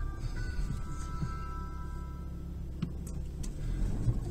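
A car is steered in zigzag manoeuvres on a slippery road, giving a steady low engine and tyre rumble that stays close and even, with faint mechanical whines and no talking.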